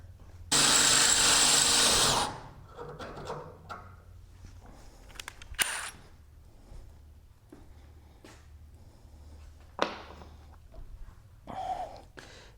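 A 6.4 mm reamer spun by a power drill cleans up a drilled hole during a Zenith CH 750 CruZer aircraft flaperon install: one loud whirring burst of about two seconds, then quiet handling clicks and knocks.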